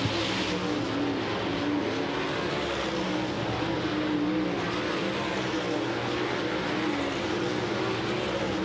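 Sprint race cars qualify at Shelby County Speedway, a steady loud engine roar with no breaks, heard from a distance with crowd-level ambience.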